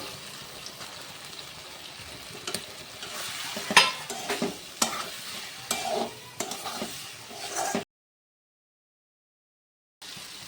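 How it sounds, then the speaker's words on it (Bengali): Fried potatoes being stirred into spiced masala in a pan: close, sizzling frying with repeated scraping and clattering stir strokes that grow louder midway, then a sudden cut to silence before faint sizzle returns. "তো আলুটা দেওয়ার পরে আমি 1-2 মিনিট মতো নেড়ে চেড়ে নিয়েছি"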